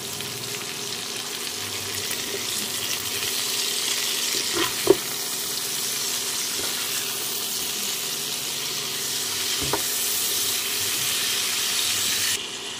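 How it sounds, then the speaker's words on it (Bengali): Chopped tomatoes frying in a pan for a Bengali aloo paneer dalna, a continuous close hiss and sizzle with a couple of faint knocks, rising a little toward the end. "দিয়ে দিচ্ছি টমেটো কুচনো"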